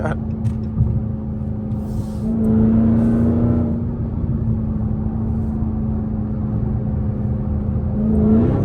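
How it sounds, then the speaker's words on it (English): A straight-piped Dodge Hellcat widebody engine drones steadily while driving, a loud continuous low exhaust rumble heard from inside the car, with a slight rise in pitch near the start and again at the end. "I fucking love that engine"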